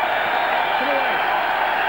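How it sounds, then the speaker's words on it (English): A rugby league stadium crowd at a St Helens v Widnes match keeps up a loud, continuous roar of jeers and shouting at the referee, with a commentator's voice faintly underneath. "Listen to the crowd, letting Mr. Smith know what they think."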